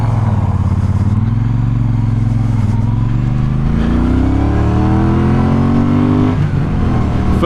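Triumph Speedmaster motorcycle engine revving and pulling hard through the gears while riding, a loud close engine note rising steadily in pitch with a brief dip at a gear change and continuous wind rumble.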